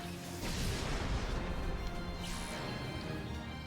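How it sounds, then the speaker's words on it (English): A grenade attack lands in the video game Fuga: Melodies of Steel, a loud crashing blast with a rough, rumbling tail that holds for a few seconds, and no one speaks over it. "Anyway, grenade."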